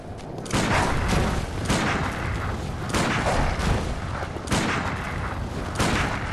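Gunshots from the video game Bloodborne ring out as about five loud, booming blasts spaced roughly a second apart, each trailing off briefly before the next, with no voices.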